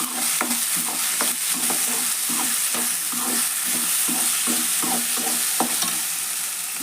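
Sprouted horse gram frying with turmeric and garam masala for a palya, a continuous sizzle over a brisk, regular rhythm of spatula scrapes against the pan, close and fairly loud, with no speech.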